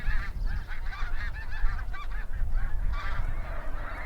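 A flock of geese honks continuously in a marsh along the St. Lawrence River at Lac-Saint-Pierre, Quebec, with many overlapping calls over a low outdoor rumble.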